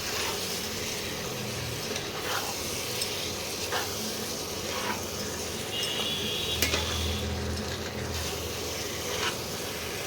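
Lamb meat sizzles steadily in a pan with spices, a continuous frying hiss broken by occasional scrapes and knocks of a spoon stirring the pot.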